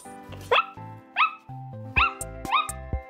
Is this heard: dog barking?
yes